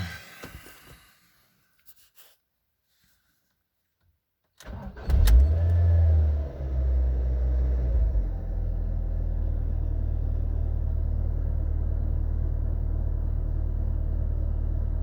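A Ford Fiesta engine cranks and catches after near silence, revving briefly before settling into a steady, close mid-pitched idle rumble with no talk over it.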